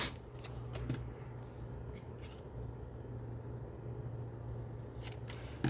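Fabric scrap being snipped with scissors while sewing gussets, with several faint, quick cuts early and near the end over a steady low hum, no talking.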